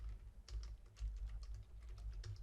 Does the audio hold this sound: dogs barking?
no